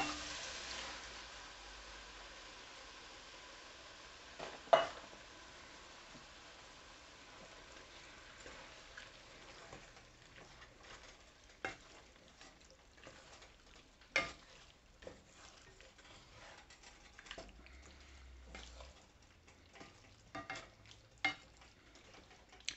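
Canned diced tomatoes with green chilies are stirred into pork al pastor chili in a pot. A faint, soft sizzle runs under scattered spoon scrapes and clicks, with no talk.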